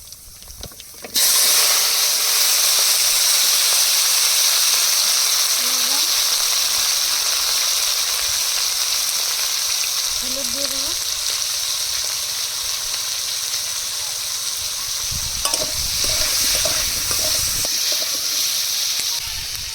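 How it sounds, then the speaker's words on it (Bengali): Potatoes hit hot oil with dried chilli and kalonji and set off a loud, continuous hissing sizzle that carries on close for nearly twenty seconds, with faint clinks and brief bits of background voice. "তেলের মধ্যে শুকনো লঙ্কা আর কালো জিরা ফোড়ন দিয়ে দেবো আলুগুলো দিয়ে আগে আলুগুলো ভেজে নেবো"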